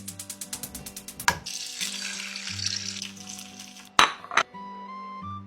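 An egg fries in a pan with a bright, steady sizzle, interrupted by a couple of sharp clinks of utensils against cookware, and no voices.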